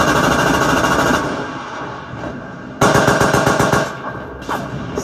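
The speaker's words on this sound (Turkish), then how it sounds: "Peşi sıra mitralyözler tıkırdamaya başladı." Rapid machine-gun fire rattles in dense bursts in a 1915 Gallipoli trench reenactment at a museum, pausing briefly and then resuming loud and close, with a second burst starting near the end.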